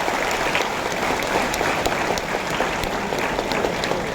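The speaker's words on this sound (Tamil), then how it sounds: "ஸோ அவங்களுக்கு இன்னொரு கைத்தட்டல் கொடுக்கலாம்" An audience at a career guidance talk for students claps steadily, a dense, continuous round of applause from many hands that holds at an even level throughout.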